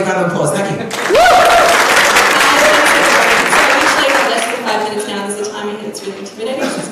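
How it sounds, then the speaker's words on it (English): An audience at a talks event bursts into loud, full applause after a moment of quiet. A sharp whistle cuts through early on, voices mix in, and the clapping thins out toward the end. "So Bridget, everybody, big round of applause."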